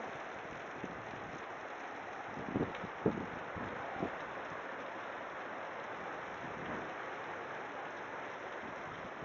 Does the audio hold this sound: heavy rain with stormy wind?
yes